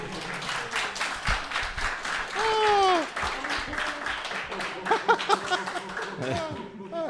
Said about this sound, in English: they were clapping